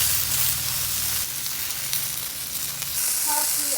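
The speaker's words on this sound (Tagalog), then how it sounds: "yung pagpiprito kasi ng patatas may kakaibang lasa na nabibigay sa adobo" Potatoes frying in hot oil for pork adobo, giving a steady close sizzle and hiss with a low bubbling layer that shifts partway through and continues alone.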